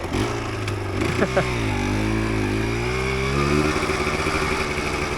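A 1988 Yamaha DT200 dirt bike engine running close by, a buzzy two-stroke idle that rises and wavers briefly with throttle blips, then settles into a steady drone, with no talking.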